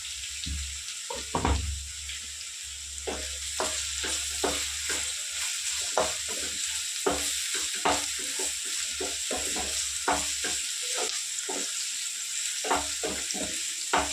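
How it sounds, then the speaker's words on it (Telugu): Raw banana slices fry with turmeric in a pan under a steady, close sizzle, punctuated by repeated light scraping and clicking stirring strokes throughout. "మళ్ళీ కలుపుకొని నాలుగు నిమిషాలు మధ్యలో కలుపుకుంటూ ఫ్రై చేసేసుకున్నాము"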